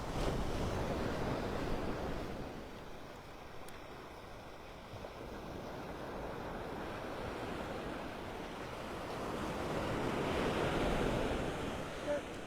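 Ocean surf rolls and crashes steadily along a beach shore in North Naples, Florida on a morning walk, a continuous loud wash of breaking waves with wind noise against the microphone, swelling stronger near the end.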